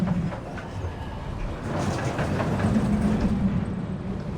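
A launched roller coaster train in a video game runs along its track, a continuous rumbling roar with faint rattling that grows slightly louder partway through, with no talk.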